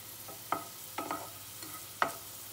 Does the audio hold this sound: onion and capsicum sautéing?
yes